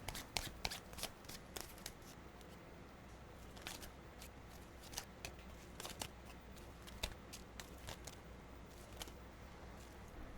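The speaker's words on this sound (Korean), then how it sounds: "카드 뽑아보도록 하겠습니다" Tarot cards are drawn and shuffled by hand, a soft, close run of quick papery flicks and slaps lasting several seconds, with no talk.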